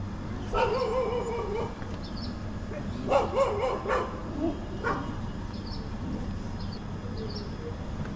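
Several dogs bark and yelp a short distance away in scattered bursts, over a steady low rumble of traffic.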